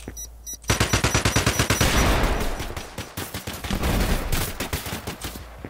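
Rapid automatic gunfire from the first-person shooter Exverse rattles in long, dense bursts, loud and close, with brief gaps between volleys and no talking over it.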